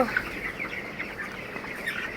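Twenty-one-day-old chickens suffering high mortality cluck and chirp softly in a brooding group, small overlapping calls over a low, steady background hum.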